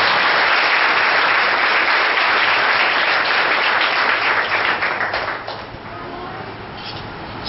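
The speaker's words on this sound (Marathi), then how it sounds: "टाळ्या वाजून देवाला गौरव देतो" Loud, dense applause from a church congregation fills the space continuously, then thins and softens slightly toward the end.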